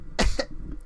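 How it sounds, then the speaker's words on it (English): A young girl who is sick gives a single short cough with a quick second catch, close to the microphone, against a quiet background. "I can tell because you're coughing"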